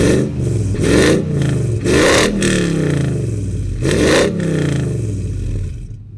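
The engine of a 2007 Lexus GX470 luxury off-road SUV is started and revved: loud, close repeated rev surges rising and falling over a steady idle, three strong bursts, then settling.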